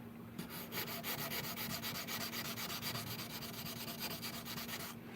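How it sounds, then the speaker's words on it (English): Fine 320 grit sandpaper rubbed in quick, steady back-and-forth swipes across the nut of a 1965 Fender Mustang guitar, close and rhythmic with a faint steady hum beneath. "I'm using like 320 grit sandpaper on this, so I'm not being real aggressive with the amount of material that I'm taking off with each swipe"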